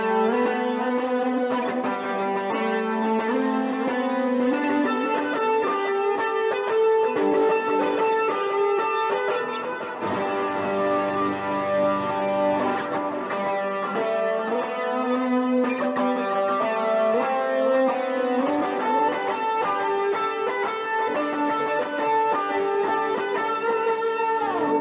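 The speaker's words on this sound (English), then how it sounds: "Let's put the 12 string and just one of the delays at dotted eighth." A bright, shimmering 12-string guitar plays chords and melody through a dotted-eighth delay on a Line 6 Helix, each note repeating in a dense, sustained wash with no talking.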